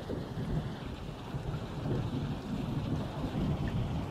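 Rain and thunder in the 2023 video game War of the Worlds, heard as a steady wash of rainfall over a low rolling rumble, continuous throughout with no voices.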